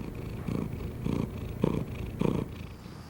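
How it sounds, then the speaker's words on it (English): A cat purrs close up in a soft, rhythmic rumble, each breath swelling and fading in a steady cycle. "A happy cat. Purring, relaxed tail"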